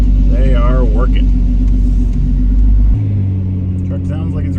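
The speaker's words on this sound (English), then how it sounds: "Truck sounds like it's running pretty good though." Truck engine running at close range during a manual brake conversion test, a heavy low rumble with a deep pitch change partway through, with people talking over it.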